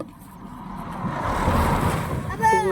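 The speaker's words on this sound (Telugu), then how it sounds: "కార్లు పోతున్నాయి, బస్సులు పోతున్నాయి." Cars and buses pass along a road, a rising rumble of engines and tyres growing louder as vehicles go by close at hand, with a brief horn-like beep near the end.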